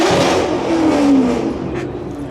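1966 Dodge Coronet with a 426 Hemi engine revving at a car show, a close, loud roar climbing and then easing off in one short burst.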